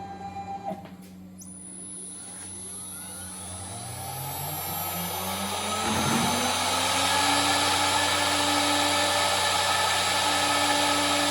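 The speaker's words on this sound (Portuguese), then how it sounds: "Então vai fazer esse processo de entalhe, daí depois eu vou recortar." A CNC router fitted with a V-bit carves a wood panel, its spindle and cutting noise a loud, steady whine that swells and climbs in pitch over several seconds, with no talking.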